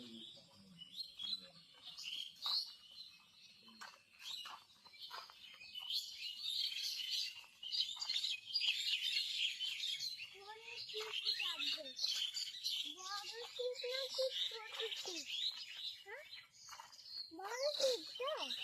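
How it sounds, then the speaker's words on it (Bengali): Morning birdsong at a riverside ghat: a dense chorus of high chirps and tweets, with clearer, nearer whistled phrases standing out over the steady twittering through the second half, no talk. "আর ঘাটে দেখুন সকালবেলায় পাখির গান"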